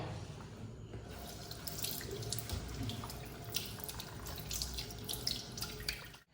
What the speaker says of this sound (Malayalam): 10 മിനിറ്റ് മസാജ് ചെയ്തിട്ട് ഇനി നന്നായിട്ട് കഴുകി കളയാം.